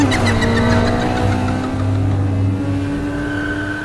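Animated car taking off at full throttle, a loud engine whine climbing in pitch and then settling into a steady high drone that fades slightly, with no voices.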